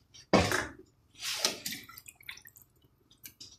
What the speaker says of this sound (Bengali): এই মুহূর্তে পানি ঢেলে দিব